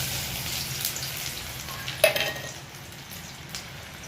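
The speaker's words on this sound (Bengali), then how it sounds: "প্রথমে তেলটা বসিয়ে দিয়েছি, তেলটা গরম হয়ে গেছে। তা আমি হলুদগুলো ছেড়ে দেব।" Turmeric fries in hot oil with chopped akanda leaves, a close, continuous sizzle with a quick metallic clink partway through before the hiss settles and softens.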